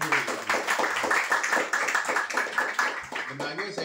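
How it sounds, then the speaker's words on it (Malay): Indoor meeting audience applauding together, a dense steady patter of many hands clapping at close range for a few seconds, with talk and voices mixed in. "tepukan paling gemuruh"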